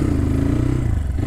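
A newly bought motorcycle idling and running smoothly close by, a steady low engine hum with a faint clattery texture and no speech over it.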